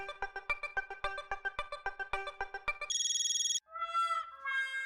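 An electronic phone ringtone plays a fast repeating melodic pattern, then shifts to a steady high trill and a short chiming tune, loud and clear with no voices.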